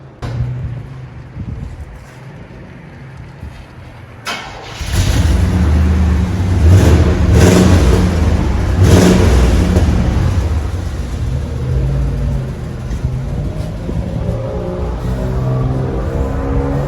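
A Chevy 1500 with a 5.7L V8 and muffler-equipped exhaust idles quietly, then the engine revs up into a sustained deep, loud rumble that holds steady and eases slightly, recorded close with no talking.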